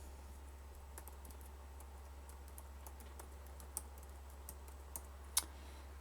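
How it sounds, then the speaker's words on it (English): Keys click on a computer keyboard, a quiet run of scattered taps with a few sharper strokes near the end, over a low steady hum. "I'm going to type out my website."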